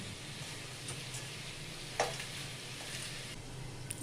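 Hilsa fish heads fry with pumpkin in a pan, a faint even sizzle holding steady with one brief clink or stir near the middle, quiet and with no talking.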